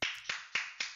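Four sharp hand claps in an even rhythm, each a crisp close slap with a short decay, heard alone with no talking.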